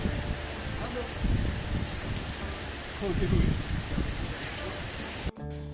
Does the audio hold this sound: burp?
no